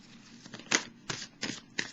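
Tarot cards being shuffled close up in a quiet room, several distinct riffling bursts with short pauses between them.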